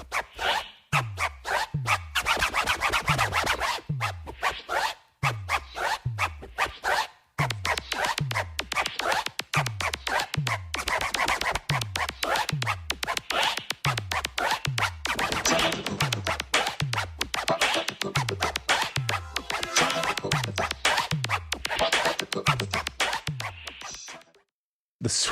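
Rapid turntable scratching of a sample from B-Side and Fab Five Freddy's Change le Beat, as heard in Rockit, with dense, rhythmic back-and-forth scratches repeating in quick bursts for a long stretch without pause.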